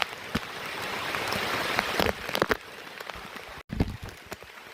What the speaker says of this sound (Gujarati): ભીમાશંકર ટ્રેક, ફૂલ વરસાદ, જોરદાર.